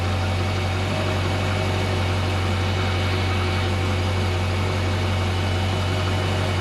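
Volvo 270 boat engine running steadily during winterizing, a loud constant low drone with a deep hum and no pauses.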